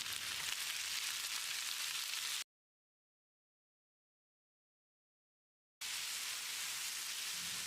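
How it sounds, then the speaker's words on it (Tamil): Chopped tomatoes sizzle in a pan with softened onions, a steady dense frying hiss that runs, breaks into silence, then returns at the same level. "1/4 கிலோ அளவுக்கு நறுக்கின தக்காளியை சேர்த்து மசிகிற அளவுக்கு வதக்கிடலாம்."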